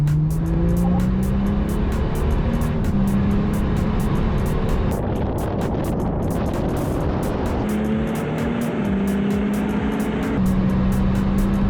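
V6 pickup trucks, a VW Amarok, a Mercedes X-Class and a Ford Ranger Raptor, drag racing, with loud engines revving hard through rising gear changes, steady and close throughout.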